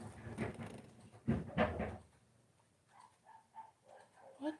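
A few dog barks up close at a home's front porch, a burst of two or three loud barks followed by softer whimpering, yelping sounds, with no one talking.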